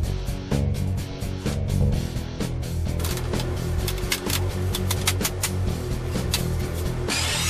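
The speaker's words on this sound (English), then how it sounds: "With a 1x12 pine board, I'm cutting the two pieces out at 19 1/4." Saw cutting through a 1x12 pine board in a workshop, a loud, continuous rasping cut with rapid rhythmic strokes, close and alone without talk, ending abruptly.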